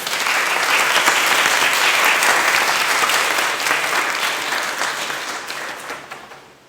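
Audience applause at the close of a talk program on Quaker families and the 1816 Farmington Quaker meeting, a dense, loud wash of clapping that holds steady and then tapers off toward the end.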